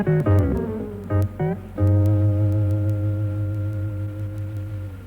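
Insight electric guitar run through a frequency analyzer effect that adds a second note alongside the played one: a few short plucked notes, then a long ringing tone that slowly fades, with no voices.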